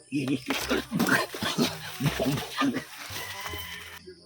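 Chickens cluck and squawk in short bursts close by, mixed with voices and farmyard noise.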